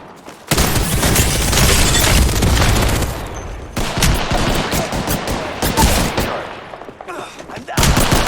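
A frag grenade blast and sustained automatic gunfire in Apex, with a long loud burst of shots, a short pause, then more bursts and a final volley, close and intense.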